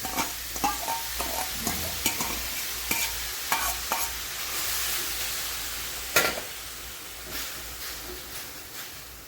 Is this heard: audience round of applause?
no